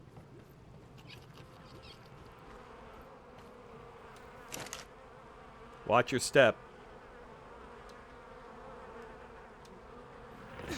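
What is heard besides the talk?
flies buzzing around fertilizer in the video game Ark Survival Ascended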